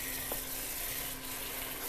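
Onion, tomato and chicken frying with garlic and spices in a pan, giving a steady, moderately quiet sizzle that continues without a break.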